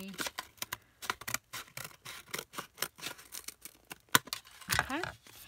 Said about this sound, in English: We can go ahead and we can cut a straight line.